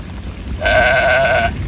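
A single sheep bleats loudly and close by for nearly a second, a steady wavering cry on a farm in the rain, with no talking over it.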